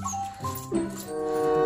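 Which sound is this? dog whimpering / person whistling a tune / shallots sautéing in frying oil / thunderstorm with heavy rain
dog whimpering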